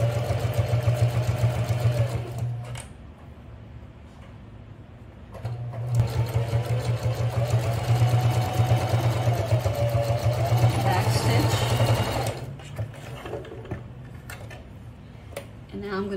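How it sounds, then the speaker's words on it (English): A sewing machine stitches a bag seam with a quarter-inch allowance in two steady mechanical runs, a pause of lighter noise between them, close and clear, with faint talk nearby. "So let's go to the sewing machine."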